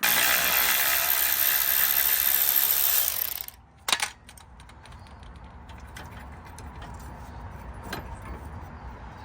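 A ratchet spins in a long steady run on a 13mm bolt holding brake lines on a 2000s Chevy Tahoe rear suspension, then clanks once and goes quiet with faint scattered metal clicks.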